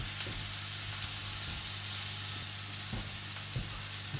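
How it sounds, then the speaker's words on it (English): Fish fingers frying in a pan give off a steady, close sizzle that carries through evenly, with a few soft clicks and bumps now and then. "fish is in the pan. Okay, I'm just going to let that cook off."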